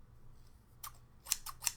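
Large, sharp, heavy-duty scissors from Fun Stamper's Journey snip three times in quick succession after a single earlier click, crisp and close in a quiet room.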